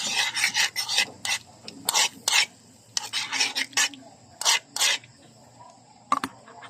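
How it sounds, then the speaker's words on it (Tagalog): Fish mixed with vinegar in a pan for a Filipino escabeche, heard as a series of close rasping scrapes and stirring strokes in uneven bursts with brief pauses between them, no talking. "I-mix po natin. haluin lahat"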